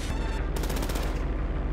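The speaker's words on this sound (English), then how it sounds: "You're shooting into the propellers" Rapid bursts of automatic gunfire in Grand Theft Auto Online, loud and close, firing continuously from an aircraft as shots are aimed at its propellers.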